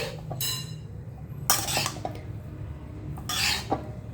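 A spoon stirs egg rice, enough for four people, in a pan, with repeated scraping and clinking bursts of metal on metal close by and a low background hum.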